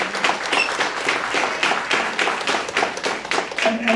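At a hall of fame ceremony, an audience applauds in a dense, steady round of hand clapping lasting about four seconds, fairly close and without talk over it.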